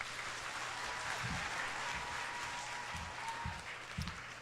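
An audience at a school spelling bee breaks into applause, a dense patter of many hands clapping together with a few low thumps, heard at moderate distance and fairly quiet.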